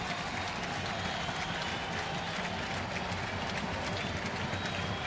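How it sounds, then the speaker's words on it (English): A crowd in the stands at an MLB game between the Texas Rangers and the Oakland Athletics sends up a steady, far-off roar that holds level the whole time, dense and unbroken, with faint scattered clapping inside it. "So the crowd making some noise."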